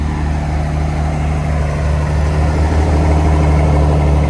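A Ferrari mid-engine sports car fitted with custom exhaust pipes idles steadily nearby, a constant loud low rumble with no talk over it.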